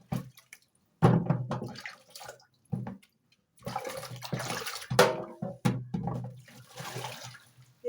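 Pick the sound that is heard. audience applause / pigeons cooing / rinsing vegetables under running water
rinsing vegetables under running water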